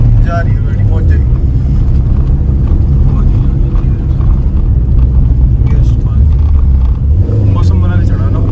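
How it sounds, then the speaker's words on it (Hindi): A car engine drones steadily while climbing a narrow mountain road in Spiti, with loud low rumble throughout and people talking over it. "जा रही है गाड़ी, पहुंच जाएगी।"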